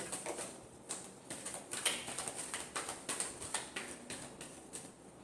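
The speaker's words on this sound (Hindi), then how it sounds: "सॉरी हम एक शफल और करेंगे, काफी सारे कार्ड्स निकल आए। एक लास्ट शफल।" Tarot cards being shuffled by hand, a run of soft, quick papery riffles and taps repeating in close, quiet bursts with no voices over them.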